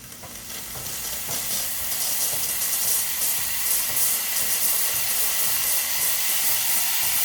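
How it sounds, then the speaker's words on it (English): A Gemilai 3005G espresso machine's steam wand gives a loud, continuous hissing roar that holds steady for several seconds, with no talking. "Before steaming, press and turn on your steaming knob."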